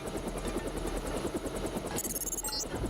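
A helicopter in the video game Deus Ex gives a steady, close rotor chop with a fast, even thudding pulse, heard alone without speech.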